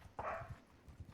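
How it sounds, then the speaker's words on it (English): A dog barks once or twice faintly in the background, a short muffled bark in an otherwise quiet room. "Sorry about the dogs in the background today"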